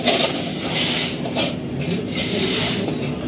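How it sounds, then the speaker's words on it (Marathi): Hot rice flour dough for modak is mixed and kneaded by hand. Soft rubbing and squishing strokes come in close, uneven bursts, with no speech. "आता आपण पाच सहा मिनटं हे पीठ झाकून ठेवलं होतं तर आपण आता चांगलं मिक्स करूया परत"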